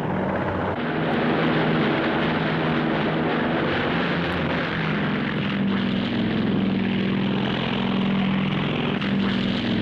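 A Grumman S2 Tracker, a piston-engine anti-submarine aircraft, drones overhead with a steady propeller throb, loud and sustained with a slight swelling and easing.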